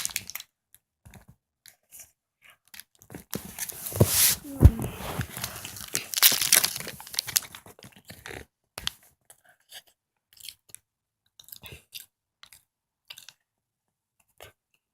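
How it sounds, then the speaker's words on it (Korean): Chewing and crinkling of an O'Yes chocolate snack cake, with close bites and wrapper rustles that cluster in the first half, then thin out into sparse soft mouth clicks and smacks, with no talking. "일단 먹방이기 때문에 다 먹겠습니다"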